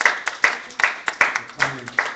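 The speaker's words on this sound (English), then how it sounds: "So let's give them a round of applause for being here." A few hands in a church congregation clap in slow, separate, sharp strikes at a roughly even pace, sparse rather than a full crowd, with faint murmuring low underneath.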